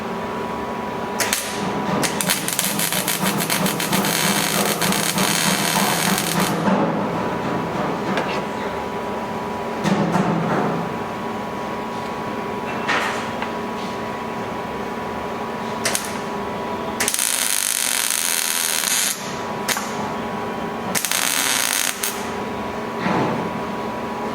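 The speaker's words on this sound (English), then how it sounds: "That's how jammed up I have my welder in order to get a good penetrating weld." A welder turned up very hot fills a hole in thick steel for deep penetration, giving crackling, hissing bursts of arc noise that start and stop several times, with quieter gaps between runs.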